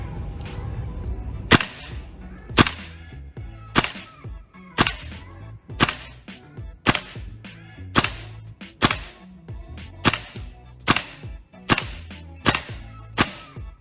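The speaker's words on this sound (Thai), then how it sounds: "เดี๋ยวผมจะยิงชดเชยขึ้นหน่อย" A VFC M110 SASS gas-powered airsoft rifle firing about fourteen sharp, close, loud cracks at a steady pace, roughly one per second, with no speech.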